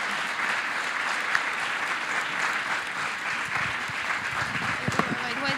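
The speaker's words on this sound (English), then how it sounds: "Let's give a great round of applause to our panelists." Sustained audience applause for panelists at a graduation and inauguration ceremony, steady dense clapping filling the room for several seconds, with a few voices faintly mixed in.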